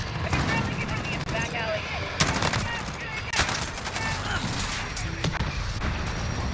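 Gunfire in Call of Duty Modern Warfare with an M4A1: dense, rapid automatic shots and bursts run throughout, loud and continuous, under a player talking.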